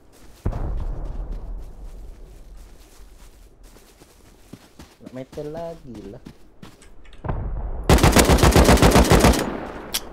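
Gunfire from the video game Rust: a single loud shot, then a long rapid automatic burst near the end, with a person talking briefly in between.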